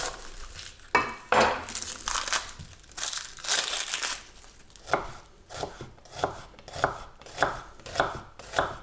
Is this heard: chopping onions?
yes